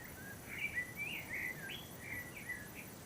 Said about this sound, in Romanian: Păsările cântă foarte frumos, după cum auziți.